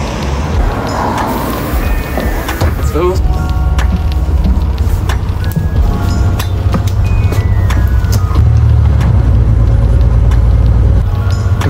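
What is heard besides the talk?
city bus arriving and driving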